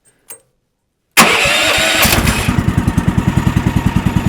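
A sawmill engine left unused for four years cranks, catches and runs. A faint click comes first, then a loud start that settles into a close, steady chugging idle.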